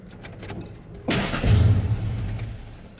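A Ford F-150 Lightning pickup truck cranks and catches with a sudden burst, then settles into a steady, close rumble as it idles.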